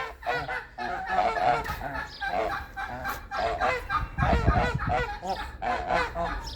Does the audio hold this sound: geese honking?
yes